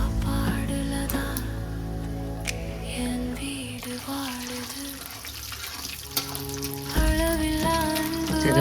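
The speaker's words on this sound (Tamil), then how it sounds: "சிறப்பாக கடுகு பொரிஞ்சிச்சு." Mustard seeds, urad dal, chana dal and cumin fry in hot oil for a Tamil cluster bean stir fry, giving a continuous crackling hiss with scattered pops and some clinks over a few seconds.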